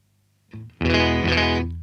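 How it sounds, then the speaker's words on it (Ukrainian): An electric guitar with a clean tone plays through a combo amp, a short note followed by a sustained, full chord that rings out clearly and close. "Ось чистий звук."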